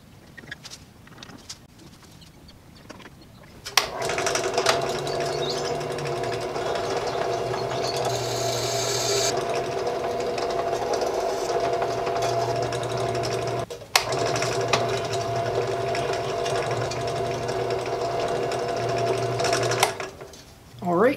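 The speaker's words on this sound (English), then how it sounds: "I've drilled all the holes in these plates based on their marked locations" Steel drilling into flat steel bars for a dune buggy roll bar base plate, a steady loud grinding whine running nearly continuously with one brief break, starting after a few quiet seconds.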